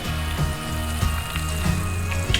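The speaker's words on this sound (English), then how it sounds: "I like to fry them very crispy, because they are, if not, they are very gummy" Calamari deep-frying in hot oil until crispy, giving a steady, close sizzle and bubbling that runs unbroken throughout with faint tonal lines underneath.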